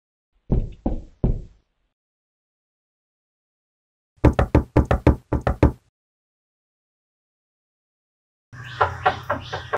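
Knocking on a door comes in three separate rounds of sharp raps: three knocks first, then a quicker run of about six, then a final rattling burst. The knocks are close and loud, with silence between them and no talk.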